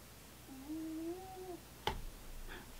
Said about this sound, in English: My cat is under there again,